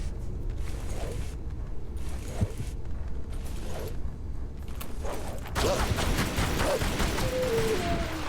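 Gunfire in the video game Tomb Raider: Anniversary, a string of sharp shots spread across the clip with mechanical clanks and a denser burst of action noise near the end, no talking.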